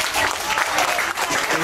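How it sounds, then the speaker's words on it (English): Audience clapping at a Supa Strikas prize ceremony, a dense steady burst of many hands close by, with a faint voice underneath. "give yourself a big round of applause"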